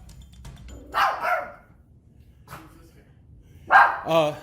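A dog barks in two short bursts, first around the one-second mark and again near the end, fairly close and loud, with people talking nearby as the owner tries to wrangle it.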